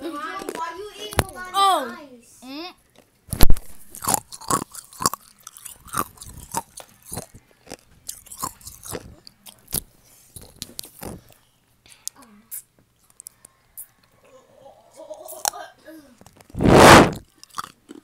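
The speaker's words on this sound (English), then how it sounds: "Today we're gonna be eating ice." Ice being chewed and crunched up close in an ASMR setting, with someone speaking and crunchy bites scattered between the talk and a loud burst near the end.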